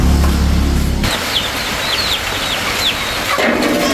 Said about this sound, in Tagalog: Yun sa kanin mo na manok!